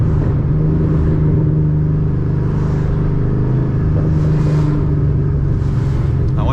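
A Ford Mustang with a 3-valve engine, set up as a drift car, rumbles and revs during a burnout, a loud continuous low drone heard from nearby, with possible voices faintly underneath.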